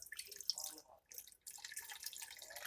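Water splashing and trickling as it is poured into a soup bowl-sized container for making cold coffee, a steady indoor stream near the mic with a short pause midway before pouring resumes.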